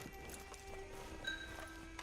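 Horse hooves clip-clop at a steady walking rhythm while riding in Red Dead Redemption 2, moderately close over a bed of ambient game noise, with no talk.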